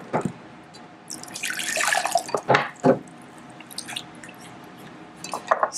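Water pours into a bottle with baking soda in the bottom, a close splashing, gurgling pour that swells and breaks into separate splashes and drips.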